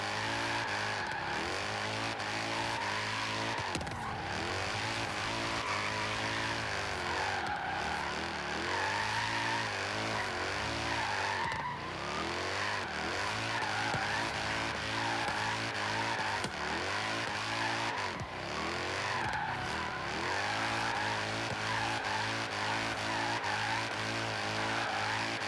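A 1997 BMW M3 with a drift tune in Forza Horizon 3 holds long drifts. The engine stays loud and continuous near the limiter, with its revs rising and dipping every few seconds and no talk over it.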